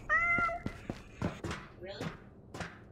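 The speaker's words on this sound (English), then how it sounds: "My cat is fine." A house cat meows close by, giving a couple of short, bright cries near the start and again midway, mixed with soft thumps and a voice talking nearby.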